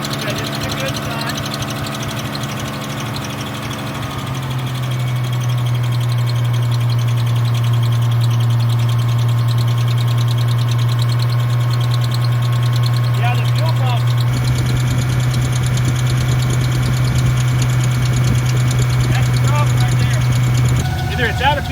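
An old car engine idles steadily after carburetor work, a low even hum with a faint rhythmic knock that rises slightly in intensity midway and runs continuously to the end.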